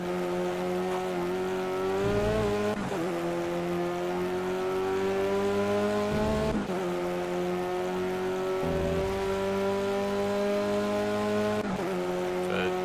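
A small Renault Clio race car corners on a track, its engine holding a steady high drone with brief dips and pitch changes as it briefly loses traction, loud and close with no talk.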